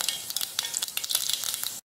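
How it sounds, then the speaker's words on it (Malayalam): Mustard seeds spluttering in hot oil in a pan, a dense, close crackle of rapid pops and sizzling that runs steadily, then cuts off abruptly near the end. "എണ്ണ ചൂടായിട്ടുണ്ട്, അതിലോട്ട് നമുക്ക് കടുക് ചേർത്ത് കൊടുക്കാം."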